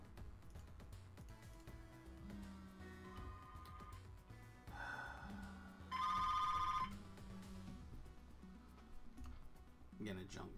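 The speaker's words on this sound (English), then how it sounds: "Getting a junk call." A phone rings with an incoming junk call, a short bright electronic trill bursting out loudly for about a second over game music and a talking voice.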